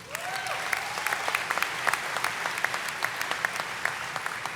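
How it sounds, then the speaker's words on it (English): Audience applause at a high school graduation ceremony, a steady dense wash of many hands clapping in a hall, continuous and moderately loud throughout with no talking over it. "something that I believe deserves a hearty round of applause for"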